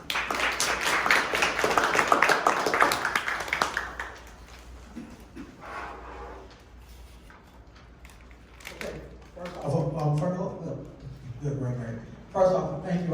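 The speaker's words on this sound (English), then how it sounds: "Let's give everyone a round of applause." Audience applause for two moderators at a business lunch-and-learn event, a dense burst of clapping for about four seconds that gives way to someone speaking.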